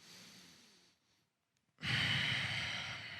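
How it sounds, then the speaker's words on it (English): Steady nasal breathing during a 90/90 hip stretch: one long, close exhale, a brief quiet pause, then a louder, rushing breath through the nose. "make sure that you're inhaling in and out of your nose"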